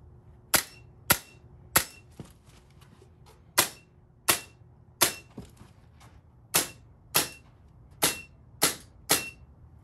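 Coolfire Trainer laser training pistol dry-fired at a home practice range: sharp, dry clicks, about fifteen shots in uneven bursts and pauses, close and crisp, with nobody talking.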